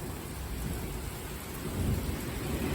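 Severe overnight thunderstorm in O'Fallon, Missouri, with close lightning strikes: steady heavy rain and a deep rolling rumble of thunder that swells louder near the end.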